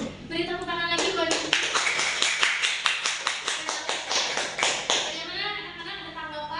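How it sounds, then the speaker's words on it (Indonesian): Classroom of students clapping after a high school poetry reading, a dense burst of hand claps lasting several seconds, with a speaking voice before and after. "beri tepuk tangan lagi buat"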